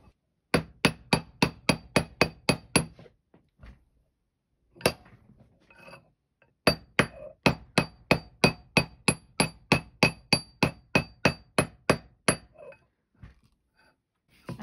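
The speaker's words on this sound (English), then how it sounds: "I'm getting texture using the flat part of my hammer, but you can also use the ball part." A hammer's flat face texturing a metal washer ring for jewelry makes rapid, close, bright metallic taps in fast even runs. Brief pauses separate the bursts, with a few scattered softer knocks between them.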